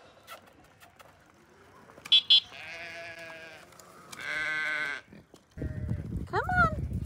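Sheep bleat a few times on a ranch, long wavering calls close by, mixed with rustling and some brief noises.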